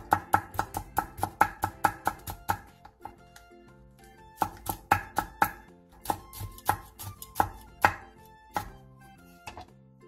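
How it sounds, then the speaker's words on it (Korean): A knife slices four halved Cheongyang chili peppers thinly on a cutting board, a crisp rapid run of chopping strokes in quick bursts with short pauses, close and clear. "청양고추 4개를 길게 반으로 갈라 얇게 쫑쫑 썰어주세요."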